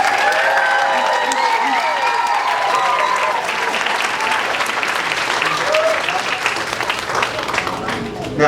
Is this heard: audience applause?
yes